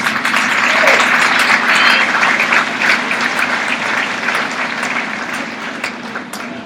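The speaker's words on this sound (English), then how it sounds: "So let's give her a big round of applause." A crowd at a livestock show gives a sustained round of applause, steady and fairly loud throughout, with a low hum beneath and some voices mixed in.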